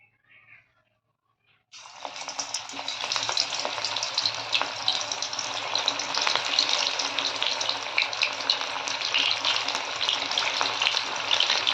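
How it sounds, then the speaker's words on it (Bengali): After a brief quiet moment, loud crackling sizzle erupts as battered broccoli pakoras hit hot oil, then bubbles on steadily without pause. "এবার ব্রোকলিগুলো আমি তেলের মধ্যে ছাড়বো"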